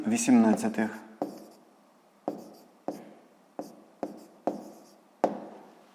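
Pen or pencil strokes on paper during a sixth-grade maths exercise on fractions, heard as a series of sharp, separate taps and short scratches spaced about a second apart, close and fairly quiet, after a brief stretch of speech at the start.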